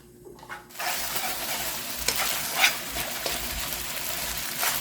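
Soaked glass noodles for japchae stir-frying in a pan, giving a continuous hiss of frying with bursts of tossing and stirring that rise and fall.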